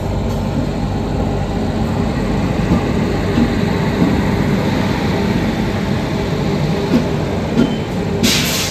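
Secunderabad–Pune Shatabdi premium express train arriving, a steady, loud rolling rumble of wheels and carriages on the rails with a constant high whine, continuing unbroken with no voices.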